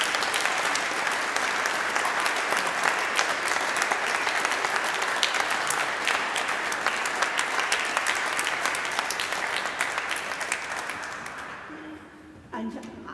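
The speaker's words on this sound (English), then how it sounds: "I think he needs a real big applause" A congregation in Malmesbury Abbey gives sustained, energetic applause that fills the space for over ten seconds, then fades away, and a voice begins speaking as it ends.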